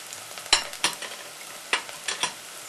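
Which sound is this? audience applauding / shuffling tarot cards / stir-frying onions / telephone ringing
stir-frying onions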